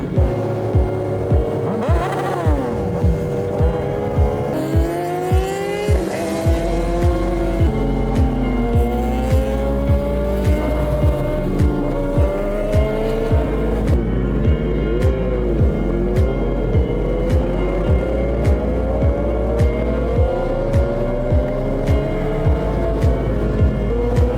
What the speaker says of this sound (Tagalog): ng tunog ng motor ni Asher.